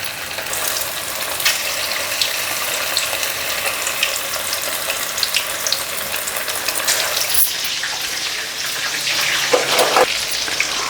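Chicken pieces for matka biryani sizzle and crackle steadily in hot oil, a dense continuous frying hiss with scattered pops, close and loud throughout with no talking.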